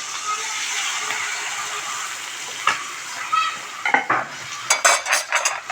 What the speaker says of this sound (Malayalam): മീൻ വറുക്കാൻ ഇട്ട് കൊടുത്തിട്ടുണ്ട്.